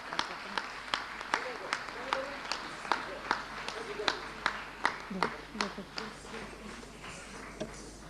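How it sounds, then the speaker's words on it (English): An audience claps after a stage performance of Krishna tales, with sharp rhythmic claps fairly close and regular, thinning toward the end. "Please give him a very big clap"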